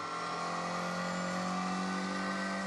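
A twin-cam 1.6-litre car engine revs hard toward 8,000 RPM and holds a high, buzzing whine, loud and steady throughout with no pause.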